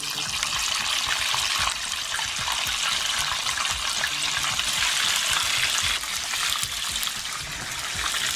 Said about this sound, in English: We're frying at 375.